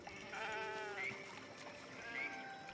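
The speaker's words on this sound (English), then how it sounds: "The sheep's voice warbles." A sheep in the video game Baldur's Gate 3 bleats in a warbling, wavering voice, two tonal calls at moderate level over a faint background.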